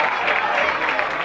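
Crowd applause at a Brazilian freestyle rap battle between rounds, a dense, steady wash of clapping and cheering that stays loud throughout.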